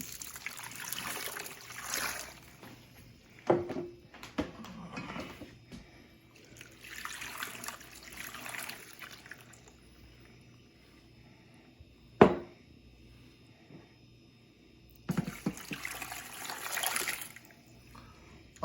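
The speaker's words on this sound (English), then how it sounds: "I did add 2 more quarts of water" Water trickles and splashes in short, faint pours into a glass quart jar during stock making, in several separate bursts with quiet gaps and a couple of clinks between.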